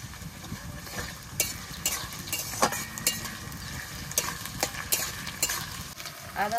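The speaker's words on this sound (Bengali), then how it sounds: "এবার আদা রসুনটা দিয়ে দেবো" Ginger-garlic paste frying with lightly browned onions and bay leaf in a home kitchen pan for a village-style desi chicken curry, a steady close sizzle broken by repeated scraping stirs.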